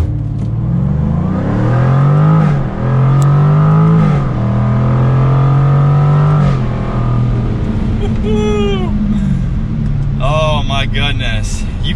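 A 2022 Jaguar F-Type R AWD convertible pulls away from first gear and accelerates hard, its engine note climbing and dropping with each upshift, loud and close from inside the cabin, with a voice talking briefly near the end.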